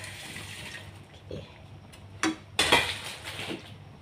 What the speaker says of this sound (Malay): Okay, dia dah mendidih, kita masukkan ayam dia.